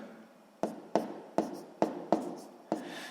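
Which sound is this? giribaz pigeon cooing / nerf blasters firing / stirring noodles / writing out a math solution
writing out a math solution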